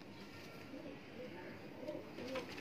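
A Kamangar pigeon coos faintly in a quiet loft, soft low rolling calls repeating under a steady background hush.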